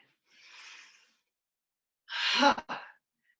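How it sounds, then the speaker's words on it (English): Slow breathing in a guided group exercise: a soft, airy exhale followed after a pause by a louder, sharper inhale-exhale with a brief catch, close and alone without talk. "Exhaling, inhaling, exhaling"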